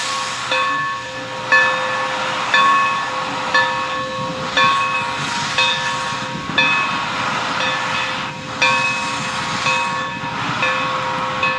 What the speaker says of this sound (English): When the engine was coupled up, the train headed off towards Swedesboro.